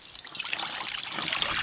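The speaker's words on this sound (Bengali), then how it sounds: "কড়াতে দেব জল।" Water pours steadily into a cooking pan (kadai) for boiling taro, a continuous close trickling splash lasting under two seconds with no talk.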